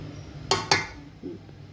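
A serving spoon clinks twice against a dish while home-cooked chicken biryani rice is dished out, two sharp close metallic taps followed by a softer knock.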